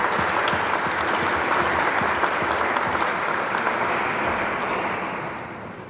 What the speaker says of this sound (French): Je pense qu'on peut applaudir tous ces gens.